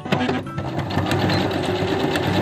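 Sewing machine stitching a fabric face mask, running in a fast continuous whir with a rapid needle chatter, close and steady across the whole stretch.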